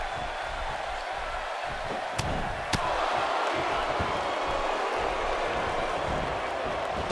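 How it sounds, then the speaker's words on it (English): WWE wrestling crowd in San Jose roars steadily throughout, a dense, loud wall of cheering. Two sharp bangs, like ring slams, cut through it. "And listen to this San Jose crowd. They are so incredibly passionate about their WWE action"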